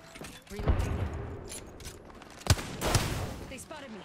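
Video game gunfire, a few sharp bursts and single cracks scattered over a few seconds, loud and close, mixed with game sounds and a voice in the background.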